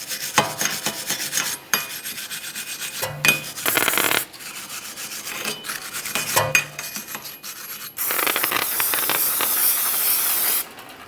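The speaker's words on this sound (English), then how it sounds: "Clean the area. Use a wire brush, whatever you might happen to have." Wire brush scrubbing the rear brake hub mating surface of a 2013-2015 Chevrolet Malibu, harsh rasping strokes in close bursts with short pauses, growing into a steady hiss toward the end.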